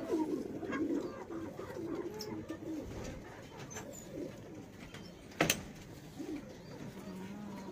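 Pigeons kept for high flying coo repeatedly in a low, soft, rolling murmur close by, with scattered chirps and a sharp knock near the end, no talking.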